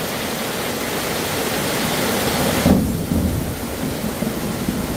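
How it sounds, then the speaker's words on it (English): Morning thunderstorm with heavy rain, a dense steady roar of rainfall and a low rumble of thunder swelling near the middle, with no talking. "So yeah, we had some storms this morning."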